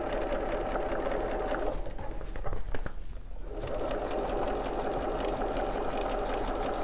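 A sewing machine stitches a few securing stitches, then runs on around the edge of a tricky fabric with a steady, close whirring hum. The motor dips briefly and picks up again, with no talking.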